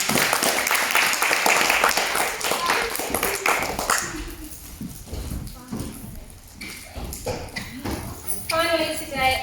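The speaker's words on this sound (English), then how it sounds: "Let's give them a big clap, please." Applause at a school assembly, with bursts of clapping that come and go under a speaker's voice.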